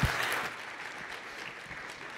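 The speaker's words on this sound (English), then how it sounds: "Let's give her another round of applause." Brief, faint applause from a conference audience, starting with a sharp burst and then tapering into scattered clapping over a couple of seconds.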